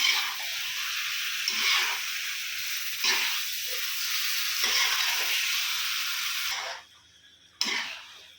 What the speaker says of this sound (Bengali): মাংসটা কিছুক্ষণ নেড়ে নিলাম তারপর নাড়ার পরে মাংসটা মশলাটা মিক্স হয়েছে